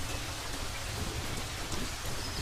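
Raindrops fall on dry grass in the Serengeti, a steady dense patter with a low rumbling undertone, even and continuous throughout.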